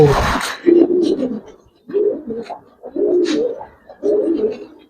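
Giribaz pigeons, silver and old-breed birds kept with colored pigeons, coo in a loft: several soft, low, rolling coos in a repeating pattern, close and clear with quiet gaps between calls.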